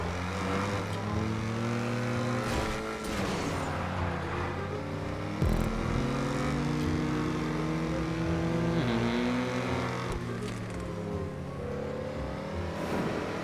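XA-21 supercars racing in the video game GTA V Online, loud continuous engine whine with shifting revs and gear changes, several cars droning together, with one sharp bump midway.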